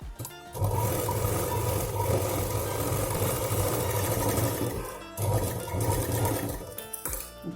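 Electric sewing machine stitching fabric for a homemade purse, a loud continuous motor whir in two long runs with a brief pause between, no talking.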